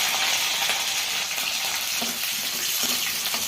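Green chillies sizzle loudly in hot oil with garlic, cumin and mustard seeds for a leafy curry, a steady close crackling hiss throughout with no talk.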